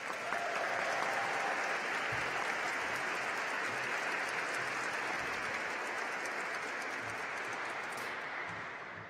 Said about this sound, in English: let's recognize her achievement with a round of applause.